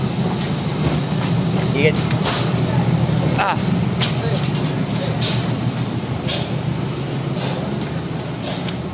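Crowded Mumbai suburban railway station as passengers step off a train, with loud continuous rumble, clatter and crowd noise throughout, and a voice speaking briefly over it.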